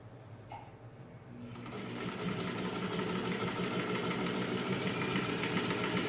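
A refurbished Singer model 15-90 sewing machine stitches through two layers of old Levi's denim, its motor starting and then settling into a loud, steady whirring hum that runs on without pause and without talk.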